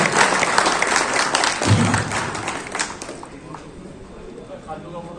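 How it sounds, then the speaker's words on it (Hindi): Crowd applause for the town president at a Samajwadi Party workers' conference in Kiratpur, dense clapping loud for the first three seconds, then thinning out and fading while a voice carries on underneath. "थोड़ी देर तालियां तो बजती रहे भाई कम से कम नगर अध्यक्ष जी के"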